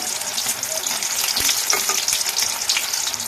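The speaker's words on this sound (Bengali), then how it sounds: "লাল লাল করে এগুলো ভাজা হয়ে গেছে" Steady crackling sizzle of egg and flour snacks frying in hot oil, with a few soft stirring scrapes, close and continuous without any talking.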